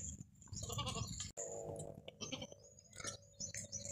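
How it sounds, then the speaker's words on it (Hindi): A healthy goat bleats in short, wavering, nasal cries close by at a livestock sale, several calls in quick succession with faint rustling and background noise between them. "बकरी आप देख लें, कोई नुक्स फॉल्ट नहीं है, सेहतमंद है, ज़बरदस्त बकरी है"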